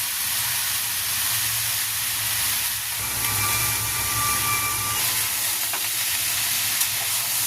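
Shukto vegetables fry in a covered pan with a steady loud sizzle and hiss, broken by brief clinks and shifts as the pan is handled.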